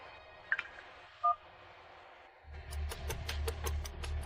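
A telephone being dialed: a few faint tones and a short clear beep, then a quick rhythmic series of DTMF key tones over a low hum, close and fairly quiet.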